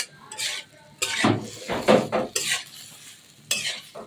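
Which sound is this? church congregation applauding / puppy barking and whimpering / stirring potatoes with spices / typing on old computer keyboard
stirring potatoes with spices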